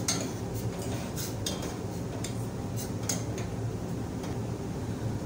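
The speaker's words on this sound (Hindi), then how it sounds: "अब इसे अच्छे से मिक्स कर लेते हैं" Sweet corn is stirred into chicken corn soup in a pot, with a spoon clinking and scraping in irregular light taps against the pot over a steady background hum.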